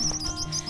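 A baby bird fallen from its nest gives thin, high chirps, about five quick repeated peeps in under a second, close and fairly loud, without speech.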